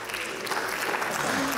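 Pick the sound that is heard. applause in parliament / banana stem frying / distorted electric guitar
applause in parliament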